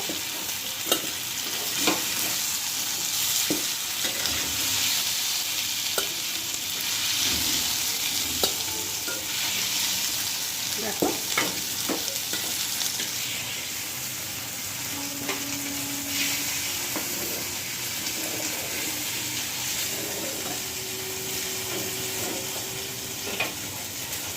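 Paneer cubes fry in a pan with a steady, broadband sizzle of hot oil, punctuated by occasional utensil scrapes and soft clinks, continuous and close for the whole stretch with no talking.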